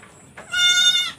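A sick goat with a cough, cold and laboured breathing lets out a single loud, drawn-out bleat, close by, after a brief quieter sound.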